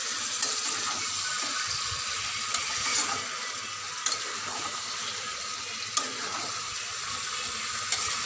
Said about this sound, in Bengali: মাংসটা কষা হয়ে গেছে, এই যে নিচে লেগে যাচ্ছে।